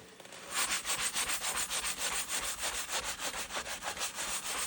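Quadruple zero steel wool rubs an old Alcoa aluminum rim in steady back-and-forth strokes, a close, loud scratchy rasp pulsing about four times a second with no talk.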